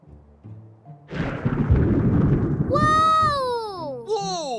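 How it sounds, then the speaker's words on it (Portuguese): A thunderclap from a storm rolls in as a broad, loud rumble lasting over a second, then fades under a person's excited exclamations. "Dessa vez eu ouvi o raio primeiro e só depois eu escutei o trovão"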